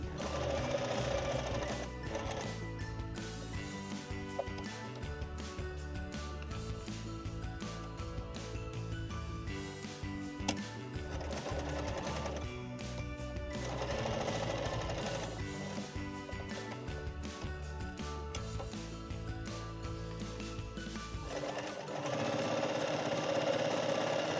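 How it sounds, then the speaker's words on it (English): A sewing machine runs a long continuous whirring stitch around the edge of a fabric notebook pen holder, close and steady, easing off briefly near the end. "just so you get a really, really nice line of stitching all the way around the edge"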